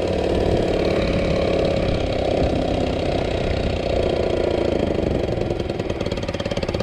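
A car engine idles steadily and loudly right after a carburetor swap, running slightly rich, with a rough uneven rhythm and occasional pops from the exhaust.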